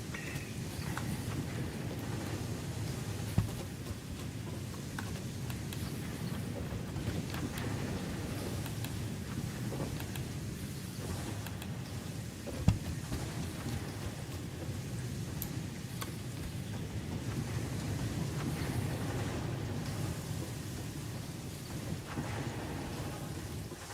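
Rain in the video game Satisfactory, a soft continuous hiss of falling drops with a low rumbling undertone, steady and fairly quiet, with a couple of faint isolated clicks.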